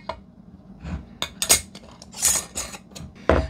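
Metal canning lids clink and clatter onto filled glass jars of cream cheese in a home kitchen, a series of close, sharp metallic taps and scrapes at an uneven pace.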